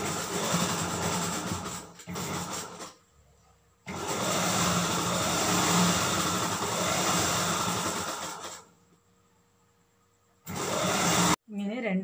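An electric sewing machine stitches the side seam of a modern dress, joining front and back bodies from the armhole downward: two long, steady whirring runs, close and fairly loud, separated by short quiet pauses.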